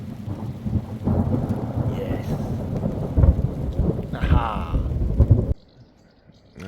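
Thunder rumbles through steady rain on a stormy evening beside a camper van, with low rolling booms swelling over several seconds before the storm noise cuts off abruptly; a person briefly murmurs a few words over it.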